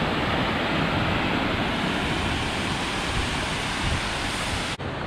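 Water pours over a dam on the Perkiomen Creek at Green Lane Park, a loud, continuous broadband roar that stays steady throughout before cutting off abruptly at the end.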